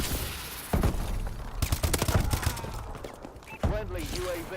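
Rapid bursts of H-bar rifle fire in a hardcore Call of Duty: Advanced Warfare multiplayer match, loud and close, with sharp repeated shots over busy game noise and someone talking faintly underneath.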